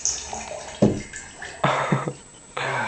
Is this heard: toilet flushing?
yes